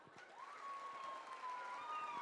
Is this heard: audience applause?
yes